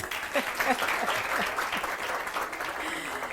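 An audience at a tribute event honoring public-sector rheumatologists breaks into steady, dense applause, sustained at an even moderate level throughout with faint voices beneath.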